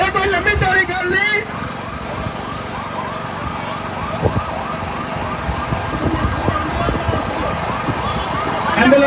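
A wailing ambulance siren cycles steadily over traffic rumble, fairly loud and sustained, with a voice talking at the start.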